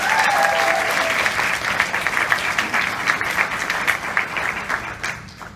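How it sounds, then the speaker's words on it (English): A crowd at a Comic-Con voice-over panel claps steadily, a dense loud applause that gradually thins and fades over several seconds. "let's get started with a round of applause"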